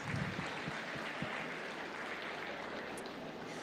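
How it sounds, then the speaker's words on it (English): Faint, distant audience applause fills a 4-H cattle show arena, a dense wash of clapping with a few sharper claps near the start, low in level. "let's give these guys a big round of applause"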